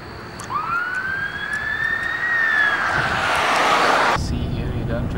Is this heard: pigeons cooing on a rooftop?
no